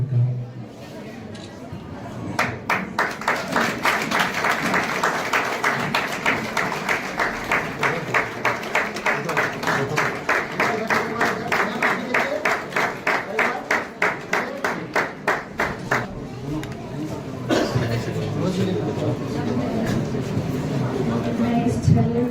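At a church wedding ceremony, a gathering gives rhythmic, unison clapping that beats steadily for about fifteen seconds and then loosens into scattered applause, with voices speaking over it.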